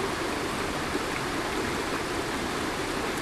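Waterfall in a valley at Malham on a cold day, a steady, full rush of falling water heard up close with no break, no voices over it.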